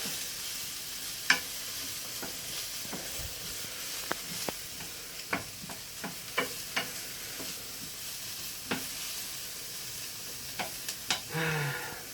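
Quiche mixture of onions, courgettes and goat cheese being stirred in a bowl: scattered light clicks and scrapes of the utensil, with a faint sizzle-like hiss underneath and no talking.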